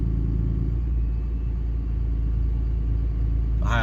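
A Banshee VGT diesel truck engine holds a steady high idle as a little throttle is applied, producing a loud continuous low rumble with an even tone throughout.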